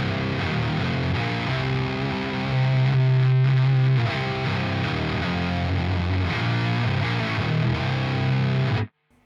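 Fuzz guitar blended with an octave effect in the Neural DSP Archetype Misha Mansoor plugin, a dense distorted riff with a thick doubled low end that sustains loudly and alone, then cuts off sharply at the end.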